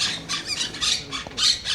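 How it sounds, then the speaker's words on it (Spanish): Rapid, harsh parrot squawks repeat in quick bursts, somewhat distant and echoing from inside a large ruined hotel building in Epecuén, Argentina. "¿Se escuchan los loros adentro?"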